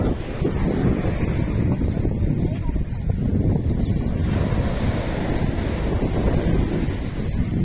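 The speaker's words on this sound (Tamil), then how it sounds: "நம்ம அந்தமான் வந்துட்டு இப்போ முதல் சுற்றுலா தலமான இந்த போர்ட் பைன் கோவ் கடற்கரைக்கு வந்திருக்கோம்." Steady surf rolls onto a beach in the Andaman Islands, with continuous wave wash and heavy wind buffeting the microphone throughout.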